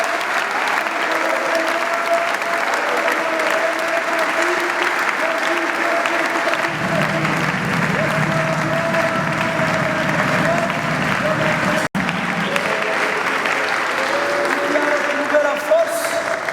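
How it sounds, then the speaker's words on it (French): A church congregation applauds the Lord in a sustained, dense round of clapping that holds steady throughout, joined partway by a low murmur of voices and swelling crowd noise. "Acclamons le Seigneur."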